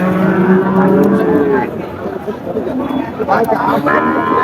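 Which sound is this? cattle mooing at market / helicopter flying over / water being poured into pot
cattle mooing at market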